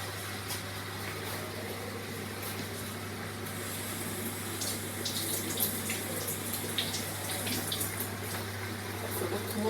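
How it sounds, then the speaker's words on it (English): Faucet water runs steadily while a bay leaf is rinsed in a kitchen, a soft continuous stream over a low background hum, with faint splashes toward the end. "I forgot to wash my bay leaf today. Okay. They wash it now."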